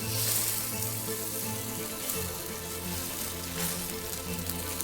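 A salmon fillet sears skin side down in a hot pan, making a dense, even sizzle with a faint hum underneath, steady and nearby.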